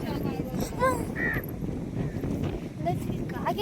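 Crows at a temple give several sharp caws, some clustered near the start and others scattered toward the end, over a steady rush of wind and background noise.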